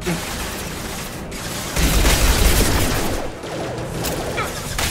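Continuous gunfire fills a firefight in Mass Effect 2 on Insanity difficulty, with dense overlapping bursts, a heavier boom-laden surge in the middle and sustained shooting to the end, loud and close.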